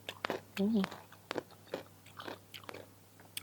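Crunchy salt-pickled young mango is bitten and chewed up close in a few crisp, snappy bites, with soft murmured voice sounds in between.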